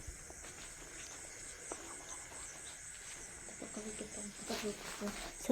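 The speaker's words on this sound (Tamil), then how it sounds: "பூச்சிங்களோட சவுண்டு" Crickets and other insects chirp in a steady high trill through a night outdoors, with a frog nearby; faint footsteps and rustling come through, and a voice murmurs briefly.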